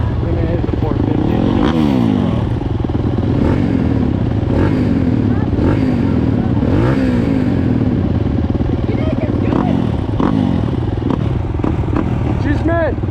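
A 450 dirt motorcycle engine revs and drones while riding, loud and close, with rising and falling throttle pulls over a rough clattering rumble, and a voice speaks over it.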